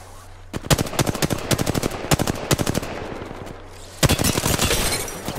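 Rapid automatic gunfire in the Apex Legends shooter game, close and loud bursts of rattling shots, pausing briefly and then returning in a sustained volley.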